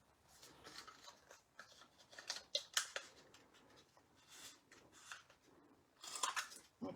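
Scissors snip out a paper sentiment banner for a pop-up gate fold card, a run of close, crisp cutting and rustling strokes with brief pauses, a louder burst near the end.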